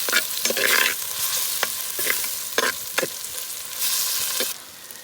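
Browned onions and ginger paste sizzle in a pan and are stirred, with bright frying hiss and repeated scraping strokes of the spoon, close and fairly loud throughout.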